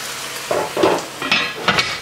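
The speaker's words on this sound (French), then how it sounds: "Les moules sont en train de cuire" Mussels cooking in beer in a covered pot give off a close, bubbling simmer with three or four short clinking bursts of lid and shells against the pot.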